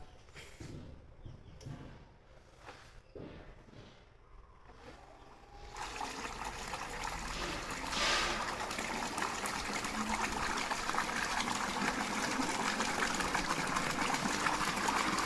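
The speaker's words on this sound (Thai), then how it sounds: "น้ำเต็มท่อครับผม" A Handuro Plus 1100W AC/DC solar submersible pump pushes water into a pipe. Scattered knocks and trickles give way to a loud, steady gushing rush that builds and holds to the end.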